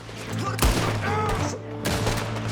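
Gunfire in the video game Red Dead Redemption 2 rings out in several sharp, booming shots spaced across a couple of seconds, close and loud over a steady game background, with a voice talking alongside.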